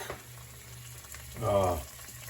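Anchovies and garlic fry gently in olive oil for spaghetti aglio e olio, a soft low sizzle with a brief swell of bubbling partway through.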